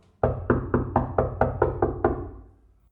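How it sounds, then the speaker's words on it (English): Eight even knocks on a door, close and fairly crisp, in a steady rhythm, then quiet. "Hotpin jumped at the soft tapping on the door."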